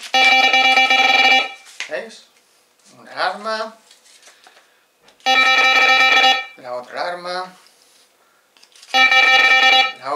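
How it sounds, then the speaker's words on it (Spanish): A loud Fox carp fishing bite alarm blares three times in long, harmonic bursts, with a person talking in the gaps between them. "Y ahora vamos con nuestra última alarma."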